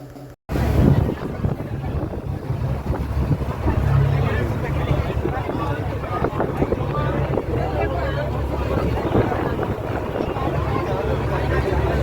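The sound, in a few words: passenger boat engine at Kanyakumari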